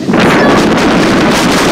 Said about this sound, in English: Wow, it's so windy. Sorry about the audio.